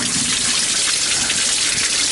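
Cold water gushes steadily from a tap at a campground dishwashing station in the Great Smoky Mountains, a loud, continuous broadband rush with no talk.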